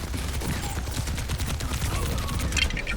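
Rapid, sustained automatic gunfire from a Bastion turret in a video game, a dense rattling burst of shots with no break, fairly loud over the game mix.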